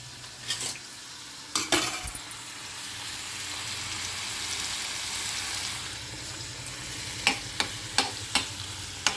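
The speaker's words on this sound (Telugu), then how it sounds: "ఇంకో జీలకర్ర వేస్తున్నా చూడండి జీలకర్ర తొందరగా ఫ్రై అవుతుంది" Cumin seeds frying in a hot pan, a sustained close sizzle broken by sharp stirring clicks and scrapes of a spoon, with a burst of taps near the end.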